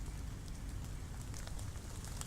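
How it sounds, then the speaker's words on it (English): Steady rain falls outdoors at a shooting range, a dense even patter of drops hissing across the surface, close and continuous without pauses and with no voices over it. "And now it's raining."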